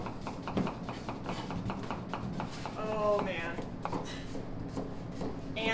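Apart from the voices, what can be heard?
fast chopping with kitchen knives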